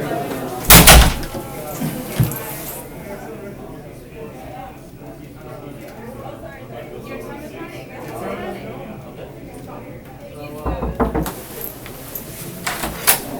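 Sharp knocks land on a door, then after a stretch of muffled voices the door bangs and opens with a few more close thumps.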